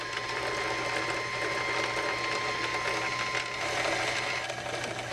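A sewing machine runs steadily while winding a bobbin, giving a continuous close mechanical whir with a faint ticking texture that holds even throughout, with no voices.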